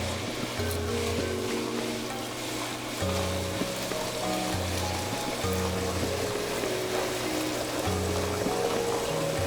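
A wet grinder's stone grinding soaked rice with water for idli batter, giving a continuous churning, sloshing rumble with a low mechanical hum that steps in pitch at intervals, steady and close.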